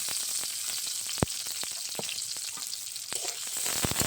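Green chili, crushed garlic and raw onion frying in mustard oil, with a steady close sizzle broken by sharp pops and spatter clicks and no voices.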